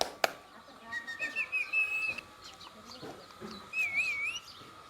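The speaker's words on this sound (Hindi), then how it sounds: "तोता। देखो इसकी आवाज सुनो" A green parrot with a red beak gives two bursts of bright, warbling whistled calls over a murmuring indoor background, the second phrase coming a couple of seconds after the first.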